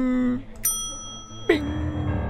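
In the point-and-click game Die Kunst des Mordens: Der Marionettenspieler, a doorbell gives two bright, ringing dings about a second apart, with someone talking underneath.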